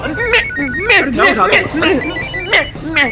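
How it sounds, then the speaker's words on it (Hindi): A phone rings with a repeating melodic tone while a voice talks over it and a child babbles nearby. "phone phone"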